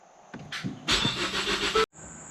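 A Ford Focus ST engine cranks and catches, giving a loud, rough burst of mechanical noise for about a second before cutting off abruptly, with a faint steady tone before and after.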